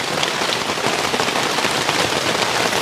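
Steady rain pours down outdoors, a dense, even hiss of drops drumming on surfaces with no pauses, loud and close throughout.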